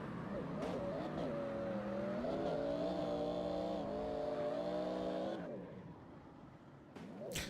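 Several car engines revving and whining together in a drifting video game championship, loud sustained tones with shifting pitch for about five seconds, then fading out with a brief tire screech near the end.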